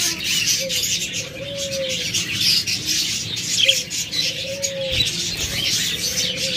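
Caged pet birds at a bird sale give repeated soft cooing and chirping calls, a few seconds apart, over a steady hissy background with no one talking.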